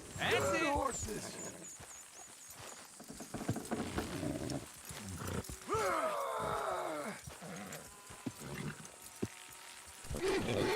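Horses in the Red Dead Redemption 2 game snort and neigh amid hoof clatter and other game effects, with voices talking over them in bursts.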